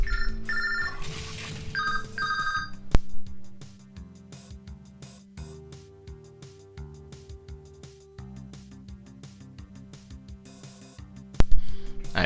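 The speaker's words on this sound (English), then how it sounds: "Did not realize my phone was in my pocket and not muted" A mobile phone ringtone plays from inside a pocket, a melodic electronic tune with repeating notes that runs for several seconds at moderate, slightly muffled loudness, with a couple of sharp clicks partway through.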